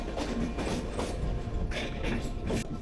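A train runs through the Western Ghats between Mangalore and Sakleshpur, giving a loud, continuous rumble with rhythmic clickety-clack of wheels over rail joints.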